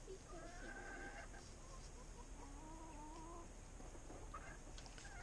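Worker chickens clucking in a hay-strewn farm enclosure, several overlapping calls rising and falling against a steady outdoor background hum, moderately close and fairly faint.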